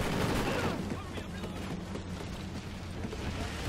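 Dense, continuous gunfire from a Call of Duty Ghosts match fills the scene as a loud, unbroken wash of shots and blasts, with no clear gaps between them.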